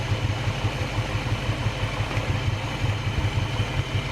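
An engine idles steadily after a tune-up with a low, rhythmic throb and light mechanical clatter, continuous and close, with no voices.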